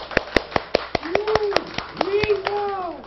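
A small studio audience at a Brazilian TV talk show gives sharp, separate hand claps in a steady rhythm, close and fairly loud, while someone speaks over them.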